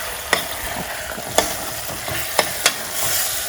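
Stuffed plantain curry with leftover masala being stirred in a pan, steady sizzling under several sharp, evenly spaced scrapes and knocks of a spoon against the pan, no speech.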